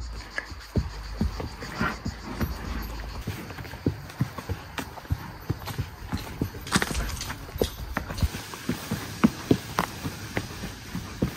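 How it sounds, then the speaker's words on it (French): Horses walk nearby, their hooves giving an irregular run of soft thuds and clops that continues throughout at a moderate distance, with no talk over it. "T'entends les chevaux?"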